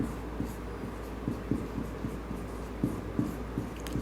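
Chalk or marker on a board during a maths lesson, giving faint, irregular tapping and scratching strokes over a low room hum.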